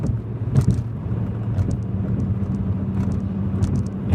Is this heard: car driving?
yes